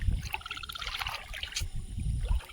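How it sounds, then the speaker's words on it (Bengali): Shallow water sloshes and trickles continuously as three people wade through it at evening while out catching fish and crabs, with soft splashes and low rumbling movement close by. "জলে তিনজন হাঁটতেছে, ঢেউ খেলতেছে"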